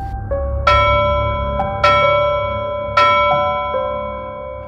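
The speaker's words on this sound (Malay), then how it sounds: "Bunyi loceng tu datang kembali" Three or four clear, ringing bell strikes sound in steady succession, each loud and close with a long shimmering decay that overlaps the next strike.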